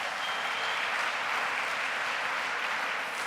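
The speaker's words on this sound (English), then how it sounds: "Give them a round of applause" A church congregation claps steadily, a soft, even wash of applause from a distance lasting a few seconds with no voices over it.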